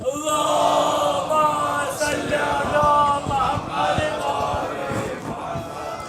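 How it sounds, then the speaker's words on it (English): A crowd at a Muharram majlis loudly recites salawat together, a dense chorus of many voices in unison that fills the hall for several seconds. "Can we get a loud salawat?"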